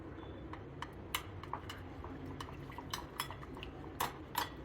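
A spoon clinks and scrapes against a bowl while mixing homemade Holi colour paste thickened with cornflour, quick light taps and rubs scattered over a faint background hiss, close but quiet.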